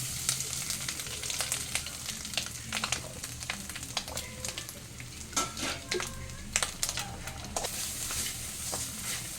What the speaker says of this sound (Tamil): தேங்காய், இந்த தேங்காயை சேர்த்து வறுக்கணும்.